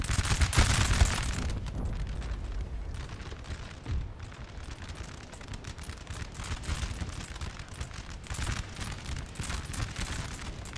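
Musket volleys from the 25th Foot Guards in a Napoleon: Total War battle against a Russian invasion, with a heavy blast at the start followed by rolling, crackling gunfire that continues steadily at mid distance.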